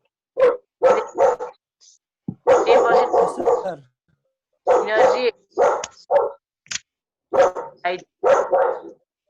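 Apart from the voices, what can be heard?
dog barking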